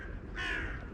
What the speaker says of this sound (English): see how many crows turn up